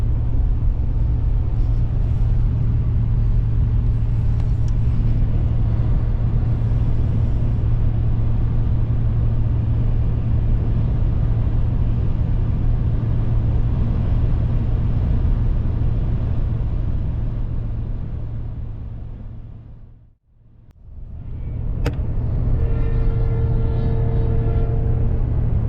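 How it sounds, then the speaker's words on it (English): A steady, loud engine and road rumble fills the inside of a Jeep cruising on a highway at about 95 km/h, briefly dipping to near silence before the drone resumes. "we're just cruising at an easy 95 kilometers an hour"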